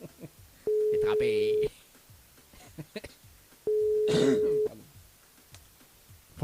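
A telephone ringing during a live radio call-in show, two long electronic ring tones separated by a pause, with someone talking quietly around them.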